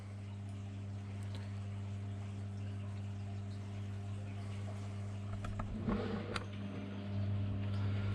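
Homemade aquarium filter running steadily as air is purged from it, a constant low mechanical hum with a brief gurgling, bubbling burst near the end.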